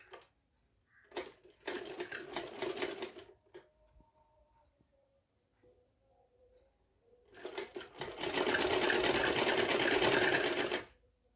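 A sewing machine stitches a frock in two runs, a shorter burst and then a longer steady whirring one, separated by a quiet pause, close and moderately loud with no speech.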